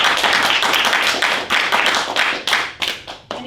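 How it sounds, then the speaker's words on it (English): A small group claps for a guest, a brisk round of close hand claps that thins out into scattered separate claps near the end, with no talk. "Let's all give Mr. Waffle Yarn a round of applause for coming in today."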